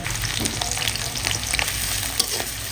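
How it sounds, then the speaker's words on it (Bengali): Small puti fish frying lightly with salt and chili in a pan, a steady close crackling sizzle with scattered sharper pops running throughout, no voices. "এটা এখন হালকা করে ভাজা নেওয়া হবে।"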